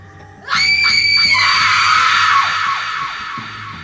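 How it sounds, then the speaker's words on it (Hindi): Woman's piercing scream as a sound effect in a Hindi horror story, bursting out suddenly and loudly, then holding for a couple of seconds before fading into lower background sounds. "एक दिन अचानक सुनीता चिल्लाने लगी"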